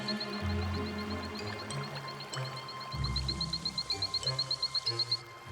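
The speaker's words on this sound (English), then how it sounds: "the male Hainan torrent frog is eager to showcase his singing voice and begins to chirp during the day" Hainan torrent frogs chirp in daytime rainforest in rapid, high, regular trains of short pulses, one series then a denser overlapping chorus, over a low background rumble.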